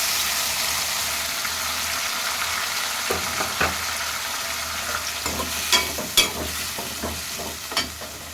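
Onions, curry leaves and green chillies fry in a pan for egg curry, with tomatoes added, an even sizzle giving way to a cluster of scraping stirs and clatters in the latter half, no talking.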